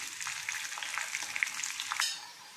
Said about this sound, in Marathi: तेलामध्ये फ्राय करून घेते।